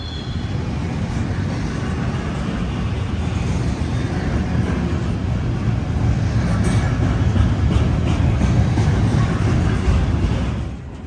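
A long freight train rolls past on a straightaway in Greenville, South Carolina, its steady broadband rumble and wheel noise holding close and loud throughout with no voices.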